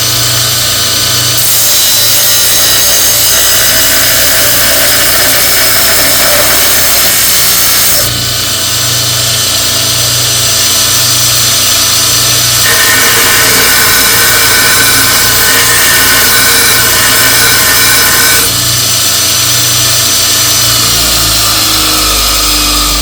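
A Multitool MT362-8 2x36 belt grinder grinds hot steel, a loud continuous abrasive rasp over the steady motor hum, shifting in tone as pressure on the belt changes.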